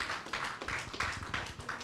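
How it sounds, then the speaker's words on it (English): An audience claps after presentations at the SVG IGF 2024 forum. The burst is brief and has a loose, pulsing rhythm of roughly half a dozen accents, sounding fairly near and moderately loud with no voices over it. "We give them another round of applause for the great presentations."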